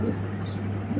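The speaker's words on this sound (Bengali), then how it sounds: "এখন ওরা ডাকাডাকি করতেছে হুমা কবুতর।" Huma pigeons cooing close by, low soft repeated coos over a steady background hum.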